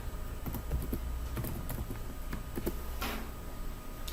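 Text being typed on a computer keyboard, quick irregular key clicks close by over a faint steady background hum, with no voices.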